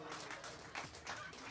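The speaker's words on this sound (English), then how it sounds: "Give him a huge round of applause because he deserves it." An audience at an LP release show at the Duncan Showroom applauds the recording engineer, a steady dense wash of clapping with a few louder swells, mixed with crowd noise and possible voices.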